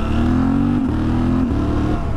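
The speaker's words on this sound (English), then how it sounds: "if you've got a bike with a quick shifter, make sure it works. This one's up and down." A motorcycle engine revs steadily as its quick shifter clicks up and then back down, with brief dips in the loud, close drone marking each quick gear change.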